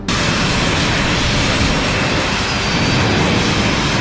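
Jet engines on a jetpack roar continuously while it hovers, a loud, dense, unbroken blast close to the listener with no voices.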